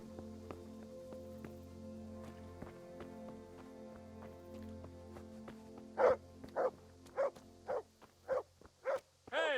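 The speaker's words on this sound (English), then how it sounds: "Why is he barking?" Dog in the video game Kingdom Come: Deliverance, first heard against a droning background with hoof clops, then breaking into a run of about eight loud, evenly spaced barks near the end.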